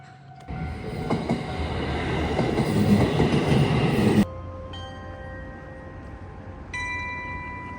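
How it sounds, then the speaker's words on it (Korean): A train rumbles past nearby at Minami-Otaru Station in Otaru, Japan, loud and steady for a few seconds, then cuts off to a quieter hum with faint tonal whines lingering. "어 기차 온다"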